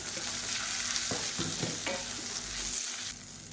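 Whole garlic cloves, shallots and turkey berries fry in a pan with a steady close sizzle, broken by several spatula scrapes. The sound drops away near the end.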